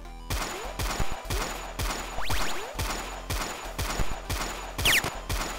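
Uzi fire in a video game, a steady run of sharp, evenly spaced shots close and loud, with a few brief ricochet-like whines between them.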